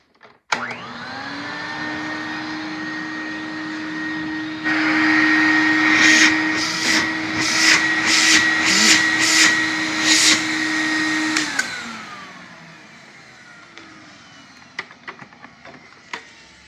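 Electrolux Ambassador vacuum cleaner switches on with a rising whine, then runs loud and steady with a bright motor tone. Its pitch shifts mid-run as it roars, then it winds down, followed by a few sharp clicks and knocks.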